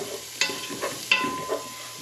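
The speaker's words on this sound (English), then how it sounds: "Give it a quick mix." A spoon stirring homemade marinara sauce in a pot, a few quick scraping swishes against the pot over a faint background hum, with no talk.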